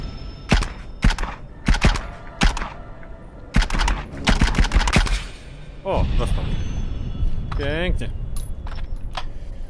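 Rapid clusters of sharp gunshots from the video game The Light Brigade ring out in bursts, then give way to a steadier background din with a voice.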